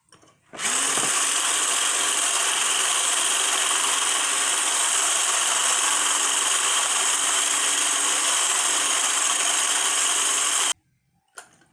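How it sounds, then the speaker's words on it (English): Homemade moisturizing whitening body butter being whisked, heard as a loud, steady mechanical whir that starts abruptly, holds for about ten seconds without a break, then cuts off, with no talking. "Okay, let's mix. Let's whisk again."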